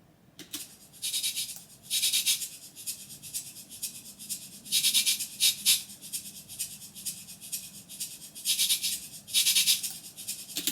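Shaker, tambourine and kabasa percussion layer, with shaker panned left, tambourine right and kabasa centred: bright, hissy rattles and shakes in a steady repeating pattern, bursts swelling every couple of seconds over a quiet low bed.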